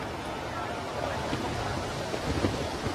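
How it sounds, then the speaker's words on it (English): Strong wind gusting across an outdoor cross-country eventing course at a five-star horse trials in Maryland in October, a continuous broadband roar buffeting the microphone, swelling louder toward the end. "Wind has gone crazy."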